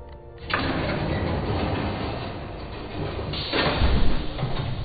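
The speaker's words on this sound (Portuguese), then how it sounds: "Mas fica barulho do caminhão," Truck and bus traffic rumbles in the background, an engine noise swelling up after a brief quiet start, then surging louder again toward the end, with no one talking.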